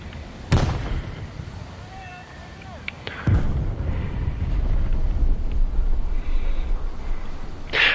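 Bombs exploding in the War Thunder combat game, two heavy booming blasts followed by a rumbling roar like jet engine and wind noise that keeps going to the end.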